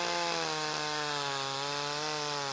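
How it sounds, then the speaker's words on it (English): Echo CS-310 14-inch chainsaw slowly cutting through dense 12-inch-diameter wood, a loud, steady, high-revving engine whine held without a break, close up and alone. "This is some pretty dense wood of about 12 inches in diameter. The saw has no issues getting through it, albeit rather slowly."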